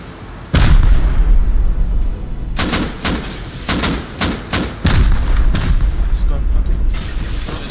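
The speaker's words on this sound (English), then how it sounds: "Shooting through the door." Gunfire in the video game Rust: loud, close bursts and repeated heavy shots, some booming, in clustered volleys over a continuous rumble, with voices talking over the fighting.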